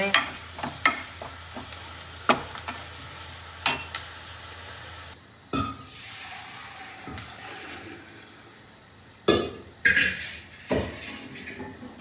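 Tadka frying in a pan for sarson da saag, a soft sizzle beneath sharp spoon clinks and scrapes against the metal pan, repeated irregularly with no voices.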